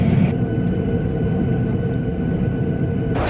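Steady airplane cabin roar on a flight, a dense continuous low rumble and hiss with no pauses, loud and close, with no voices.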